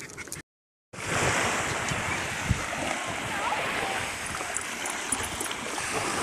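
Waves break and wash on the beach at Prestatyn under gusty wind buffeting the microphone, a steady surf roar after a brief dropout, with a few splashes and people talking over it.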